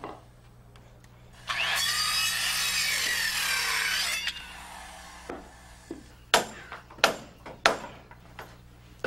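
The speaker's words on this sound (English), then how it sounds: "We just want to saw these ends down below the level of the sheeting." A handsaw cuts rafter ends on a timber-frame house roof, first with a sustained rasping run of strokes, then a series of separate sharp scrapes and knocks, close and loud with no voices.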